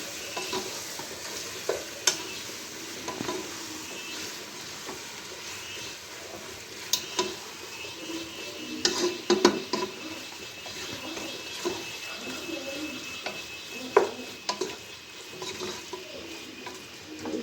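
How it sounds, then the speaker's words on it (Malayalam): Chicken pieces coated in masala being stirred in a pan for a chicken curry, a low ongoing sizzle with repeated clacks and scrapes of a spoon against the pan, close and fairly quiet. "ചിക്കൻ പീസ് അങ്ങോട്ടേക്ക് ചേർക്കാം മസാല ചേർത്തിട്ടാണ് വേറെ മസാല ഒന്നും ഇതിൽ ചേർക്കണ്ട നന്നായി ഇളക്കി വെക്കുക"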